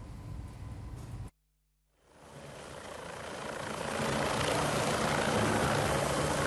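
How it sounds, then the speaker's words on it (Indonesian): A police helicopter comes in to land in Bintan, Riau Islands, its engine and rotor noise cutting out briefly, then swelling back into a loud, steady roar that builds and holds. "memperlihatkan helikopter 1108 milik Polda Kepri mendarat di wilayah Bintan, Kepulauan Riau"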